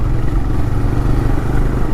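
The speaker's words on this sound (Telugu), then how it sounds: "అది గట్టి గడ్డి ట్రాక్టర్ వెళ్తుంది గడ్డి వేసుకొని ఫుల్ రష్ ఉంది" A tractor loaded with grass rumbles past in heavy road traffic, a steady loud low engine drone close by with continuous clattering and no breaks.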